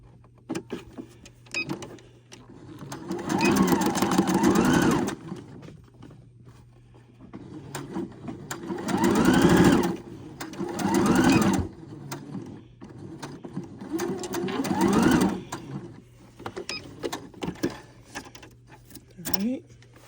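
Sewing machine stitching fabric pieces together for a Simplicity 5628 pattern, running in three or four bursts of several seconds each with a fast whirring stitch rhythm, with pauses between them.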